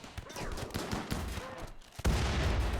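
Gunfire from turrets and a frag thrower in the game Rimworld crackles in a rapid, dense fusillade of small game shots, moderately quiet, with a heavier, louder burst of blasts near the end.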